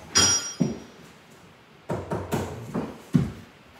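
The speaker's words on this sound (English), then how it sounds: "Take a hammer and beat that lip" Hammer blows beat the lip of a vinyl floor plank during stair scribing, a handful of sharp, fairly close impacts in uneven bursts with short pauses between strikes.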